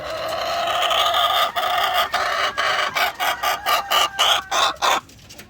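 A hen clucks in a rapid series of short, close calls, starting with a drawn-out cackle and breaking into choppy, rhythmic clucks that stop abruptly.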